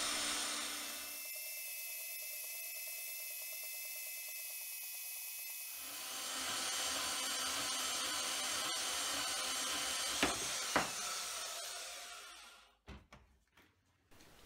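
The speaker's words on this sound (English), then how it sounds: "Surprisingly, the little bandsaw is cutting through this reasonably well." A small bandsaw cutting through 70 mm steel round bar, a steady mechanical whine and grinding hum that runs for several seconds, then a couple of clanks before the motor winds down and stops.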